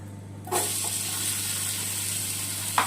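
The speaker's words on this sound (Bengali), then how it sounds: "এর মধ্যে আমি আমার ঘি দিয়ে দিচ্ছি, ঘি আর মাখন দিয়ে দিচ্ছি।" Ghee and butter hit a hot pan and burst into a loud, steady sizzle that starts abruptly and hisses on without a break, with a faint clink near the end.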